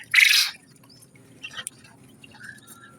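King quail, jumbo hybrid birds, give one loud sharp call near the start, followed by a few faint, scattered chirps over quiet background rustling.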